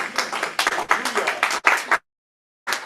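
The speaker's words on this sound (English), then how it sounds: "Man clap" A man claps his hands in quick bursts of sharp, close claps, with a short pause before a final few.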